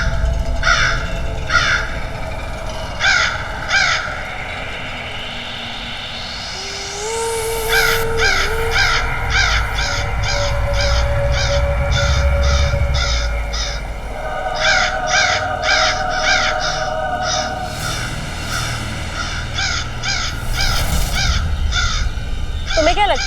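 A crow caws repeatedly in an animated Aladdin episode, loud, rhythmic bursts of harsh calls in several runs over background music and effects.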